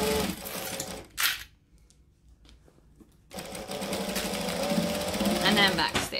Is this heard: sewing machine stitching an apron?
yes